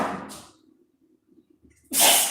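A sharp, breathy sneeze bursts out near the end after a soft intake of breath and a quiet pause, close and loud.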